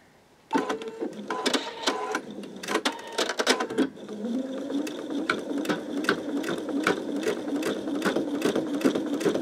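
An embroidery machine stitches at its lowest stitch speed, starting after a brief quiet moment and settling into a steady, close mechanical whir with rapid rhythmic needle clatter throughout.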